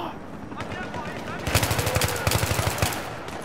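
Rapid automatic gunfire bursts rattle through a Battlefield 3 match, loud and close, with a player's voice over the shooting.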